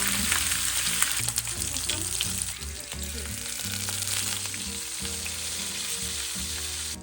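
Thin-sliced Korean beef brisket (chadolbaegi) sizzles as it grills in a pan. A loud, continuous crackling fry runs throughout, with a few low knocks and bumps beneath it.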